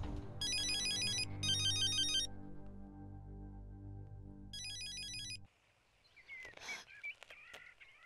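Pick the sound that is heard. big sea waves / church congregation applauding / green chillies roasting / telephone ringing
telephone ringing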